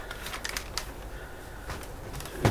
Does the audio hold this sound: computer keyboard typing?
yes